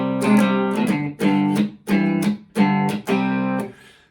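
Distorted electric guitar power chords D5, C5 and G5 play a riff, with about five separate strummed chord hits in a syncopated rhythm, heard alone.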